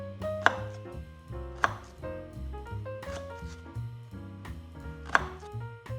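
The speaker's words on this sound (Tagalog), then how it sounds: "hiwa na tayo ng sibuyas" A knife chops through an onion on a home kitchen board: four sharp, separate cuts spaced a second or more apart, heard over steady background music.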